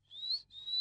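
A person whistles two rising, piercing notes in quick succession, the first slightly longer, with a short break between them; clear and fairly close, heard alone.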